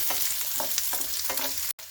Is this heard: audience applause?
no